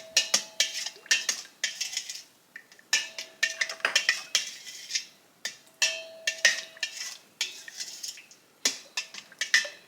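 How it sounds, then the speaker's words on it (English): A spoon scrapes and clinks against a pot while pickling salt is stirred into homemade barbecue sauce, a steady run of quick metallic taps and scrapes up close, with brief pauses between strokes. "I'm going to stir it up"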